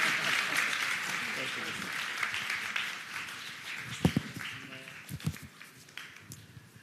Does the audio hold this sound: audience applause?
yes